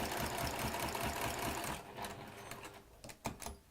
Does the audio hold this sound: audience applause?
no